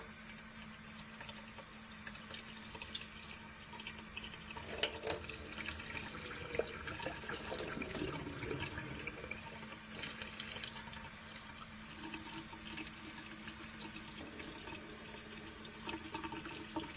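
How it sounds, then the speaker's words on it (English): Tap water runs steadily for rinsing Dollar Tree microgreen seeds as they sprout, a continuous close hiss and splash with faint clinks and no talking. "I might turn the water off."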